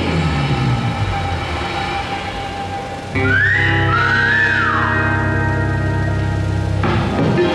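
A person whistles a short rising and falling tune over a loud, steady rumble.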